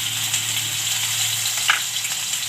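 Cumin seeds and garlic sizzling in hot oil for a fafdi gathiya curry, a loud, dense, steady frying hiss close up, unbroken and with no talk.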